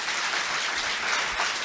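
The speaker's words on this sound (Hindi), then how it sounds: "एक बार ज़ोरदार तालियां सारे कविगण के लिए।" Audience applause for the poets at a college kavi sammelan, a steady dense wash of many hands clapping throughout, fairly loud and close, with no speech on top.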